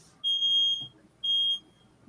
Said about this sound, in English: go kick this alarm in the butt